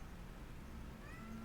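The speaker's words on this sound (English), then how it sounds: "Cat's talking to me." A pet cat meows faintly in a room over a steady low background hum, a short drawn-out call near the end with no talking.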